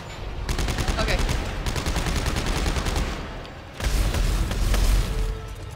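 Rapid bursts of gunfire from Dead Space 3 rattle in quick, repeated volleys, pausing briefly before a louder, heavier round of shots with booming impacts.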